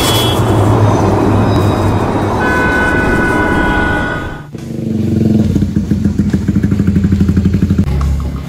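A motorcycle engine runs loud and close, a steady roar that drops away briefly mid-clip and then returns as a rhythmic, pulsing idle.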